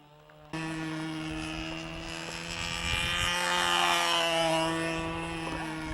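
A model Spitfire airplane engine starts abruptly and holds a loud, steady, buzzing drone that swells slightly as the plane passes nearer mid-flight.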